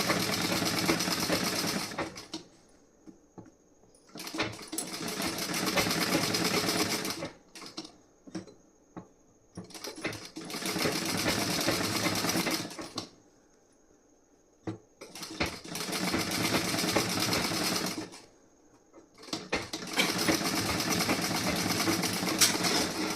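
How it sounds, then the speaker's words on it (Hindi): Sewing machine stitching the front panel of a blouse in bursts of steady whirring, running several seconds at a time with short quiet pauses between runs, close and loud. "अब आपको यहाँ से सिलाई लगा देनी है इस पे।"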